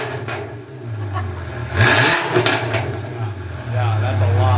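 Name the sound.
Porsche GT4 with raised headers exhaust revving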